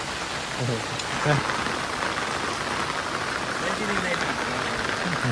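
Steady rain patters across a village, a dense even hiss throughout, with faint voices briefly underneath.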